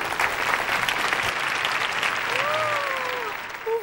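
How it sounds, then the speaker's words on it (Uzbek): Audience at a comedy show breaks into sustained, dense applause that carries through nearly the whole moment, with faint voices mixed in. "Qarsakinglar marhamat."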